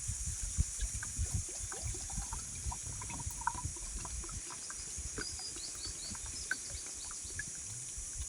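Water trickles and splashes as it is poured in a village setting to make sherbet, producing light, faint dribbling sounds over a low outdoor hum, with a few bird chirps in the background.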